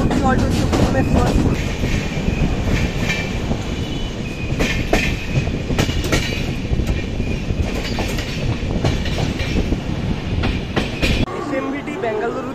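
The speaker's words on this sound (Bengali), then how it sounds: "আমাদের ট্রেন ছেড়ে দিয়েছে খুর্দা রোড জাংশন থেকে" An AC superfast express, the SMVT Bengaluru–Kamakhya train, rolls out of Khurda Road Junction in Odisha, its loud, continuous rumble and rhythmic wheel clatter heard from inside an AC three-tier coach, with sharp rail clicks throughout.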